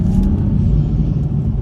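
Deep, steady exhaust rumble from a BMW 435i, a continuous low burble heard from behind the car with no talk over it.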